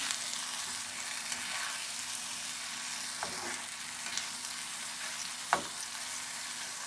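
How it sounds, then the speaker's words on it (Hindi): Roasted eggplant sautés quietly in oil in a pan for dahi baingan bharta, a soft steady sizzle with a few spoon scrapes and one sharper knock near the end. "अब इसको इसी ऑयल में थोड़ा सा भूनना है।"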